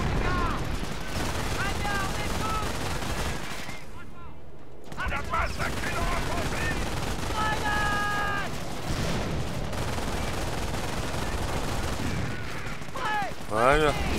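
Sustained gunfire and explosions from a Company of Heroes Opposing Fronts battle for Caen, with a vehicle firing at a German target; dense bursts of shots and booms run continuously at close range, briefly dropping out once.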